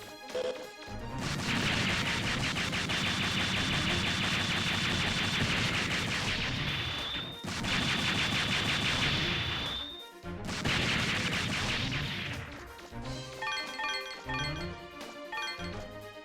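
A barrage of missiles striking enemies in Mega Man Legends, with dense crashing impacts and blasts in long loud bursts, separated by short gaps and ending in choppier, lighter hits.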